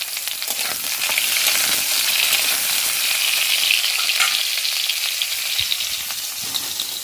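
Slices of pointed gourd (potol) sprinkled with a little salt fry in hot oil in a pan, giving a steady, dense sizzle that carries evenly through the whole stretch with no voices.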